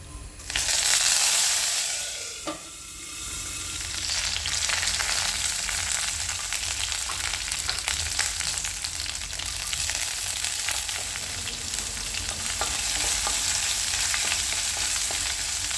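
Curry leaves, ginger, green chili and garlic sauté in hot oil with popped mustard seeds for a fish thoran, giving a steady close sizzle and crackle throughout with a brief louder burst at the start and no talk.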